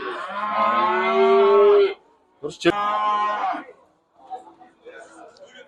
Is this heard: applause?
no